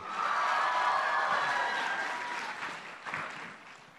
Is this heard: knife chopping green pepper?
no